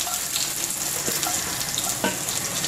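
Mustard seeds, dried chilli and shallots fry in hot oil with a dense, steady sizzle. A few sharp pops and crackles rise above the hiss, close and loud.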